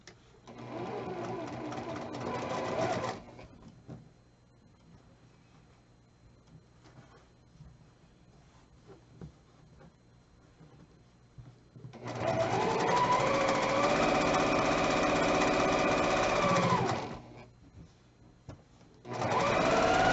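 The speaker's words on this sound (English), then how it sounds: "So I'm going to flip this one on top and sew right along this edge." A sewing machine stitches quilt pieces together along an edge, running in three loud close bursts separated by quiet pauses, with a steady mechanical whir while it runs.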